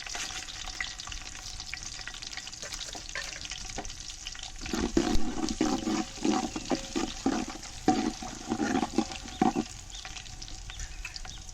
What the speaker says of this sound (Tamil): எண்ணெய் காஞ்சிருச்சு. பட்டை மசாலா போட்டுக்கலாம். சோம்பு சீரகம்,